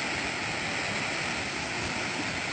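Water rushes into a farm field in Sangi village with a dense, constant gushing roar, loud and close, with no one talking.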